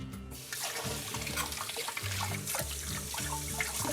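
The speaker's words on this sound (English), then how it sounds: "So I'm gonna wash my hands now." Hands being washed under a running kitchen tap while making turkey stuffed peppers, a steady broadband rush of water with splashing variations, fairly close and continuous after a brief quiet start.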